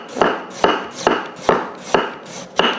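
A knife cuts thin slices from a steadied jicama on a board, six evenly spaced crisp chops about half a second apart, close and clear, no talking.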